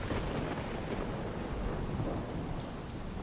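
Heavy monsoon rain pours down in North Gujarat, a dense, constant roar of water filling the air, with deep rumbling thunder blended into the downpour throughout.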